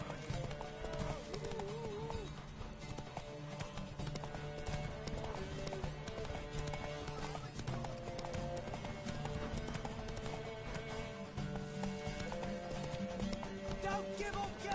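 Horse hooves clip-clop at a steady galloping rhythm during a race in a video game, mixed under constant game music and crowd noise, with a voice shouting encouragement over it.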